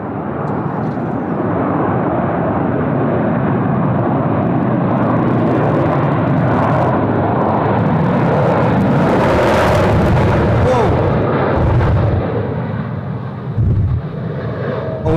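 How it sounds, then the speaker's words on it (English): A China Eastern Airbus A330 lands at Sydney Airport with heavy reverse thrust, a loud, sustained jet roar that swells to a peak and then fades as the aircraft slows, heard from a distance. "Always nice and heavy on the reverses, the China Eastern 330s"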